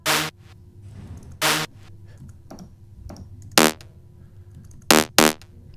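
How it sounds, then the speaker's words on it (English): Short synth stab samples from the Spire Stab set triggered in Logic for EDM production, five bright punchy hits with an irregular rhythm over a quiet background, loud and close. "the second one here is going to be the Spire Stab"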